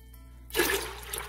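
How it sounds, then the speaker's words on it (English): Water splashes and pours into a soy milk machine filled for making soy milk, a sudden steady gush starting after a faint hum and continuing up close for about a second. "then we fill it with water up to the maximum capacity"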